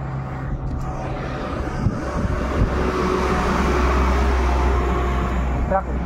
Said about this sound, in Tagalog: Dumaan truck eh.